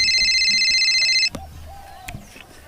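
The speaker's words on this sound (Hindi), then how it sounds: "फिर फोन आ गया" A telephone rings with a steady electronic trill for just over a second, then cuts off, leaving a quiet room with a few faint knocks and rustles.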